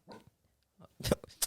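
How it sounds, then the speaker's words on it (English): A dog named Yuki letting out a couple of short, gruff barks or grunting vocalizations, close by, separated by brief silence. "I apologize if you hear our dog Yuki barking."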